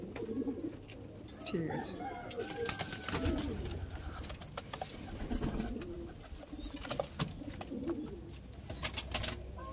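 Large old-generation Giribaj pigeons coo softly amid rustling and handling noises, with people talking nearby.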